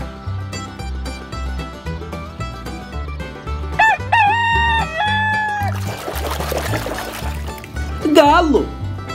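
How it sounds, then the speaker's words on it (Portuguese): A rooster crows loudly nearby, its rising call repeated over steady background music and chatter. "Galo."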